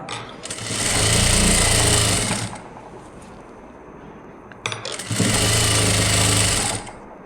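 An electric sewing machine stitches a newborn baby's photo-shoot dress, running loud and steady in two bursts of about two seconds each, with a quiet pause between them.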